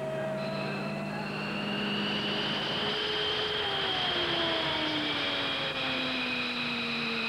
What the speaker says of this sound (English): Captain Dave Slade revs the engines